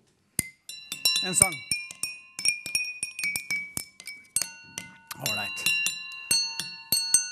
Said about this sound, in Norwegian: du kan lage ditt eget orkester, og du kan ha så mange glass du vil